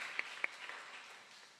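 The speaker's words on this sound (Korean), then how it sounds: "그 하나님께 우리 영광의 박수 한번 돌려드리겠습니다." A short burst of clapping from a church congregation at a Sunday family service, a couple of sharper claps standing out before it fades quickly.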